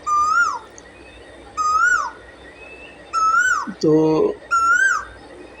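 An Asian koel calls from a tree in a garden, giving four loud rising and falling whistled notes at a steady pace, with a brief spoken word between the calls.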